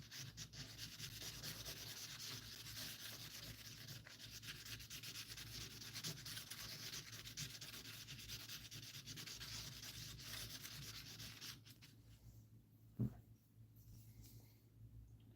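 Opals are hand sanded during pre-polishing, a continuous close scratchy rubbing that runs steadily for about twelve seconds, then fades to quiet, broken by a single sharp knock.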